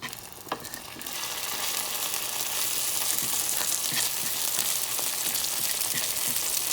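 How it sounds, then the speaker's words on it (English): Scallops and shrimp sear in a hot pan with a steady, loud sizzle that rises after a brief quieter start, a few sharp pops and utensil taps standing out over the constant hiss. "what you're doing is you're going to sear them now"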